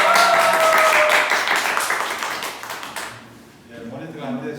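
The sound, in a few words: audience applause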